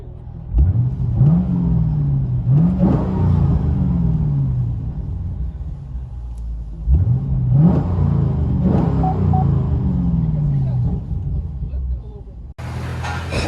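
Chevy Camaro SS with a 6.2L LS3 V8 and loud aftermarket exhaust, heard from inside the car, revs up in two pairs of sharp throttle blips that swell into a deep rumbling drone and then settle back down.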